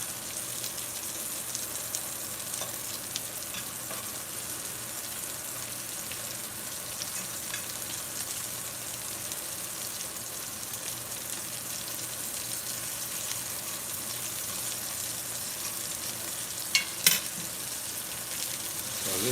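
Onions fry in a pan alongside hamburger steak, a steady close sizzle and crackle that runs unbroken, with a couple of brief clinks near the end and no talking.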